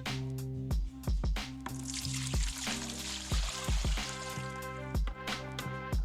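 Water pours from a bucket into a 2-liter measuring cup, with irregular splashes and drips in a quick, uneven rhythm at close range.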